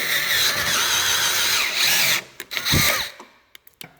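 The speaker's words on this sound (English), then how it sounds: "I'm actually going to just drill it out with a regular drill here" A handheld power drill whines steadily into metal for about two seconds, drilling out a motorcycle mount, then stops, followed by a few clanks and short scraping sounds.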